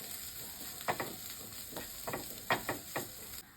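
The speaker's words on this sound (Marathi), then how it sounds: "जो कोबी घेतला होता बारीक करून तो सुद्धा मी त्यामध्ये घालून घेतो तो सुद्धा छान असा परतून घ्यायचा आहे" Finely shredded cabbage sautéed with fried onions in a pan, a low steady sizzle with several distinct scraping stirs in bursts, close and moderately quiet, no speech.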